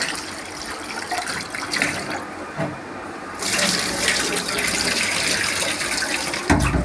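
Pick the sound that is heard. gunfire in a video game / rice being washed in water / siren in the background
rice being washed in water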